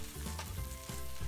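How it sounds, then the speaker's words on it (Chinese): Spinach stir-fried with sliced garlic and chili in hot oil in a wok, a steady close sizzle and crackle that runs throughout with no voices. "我们就可以把菠菜放进去一起来翻炒"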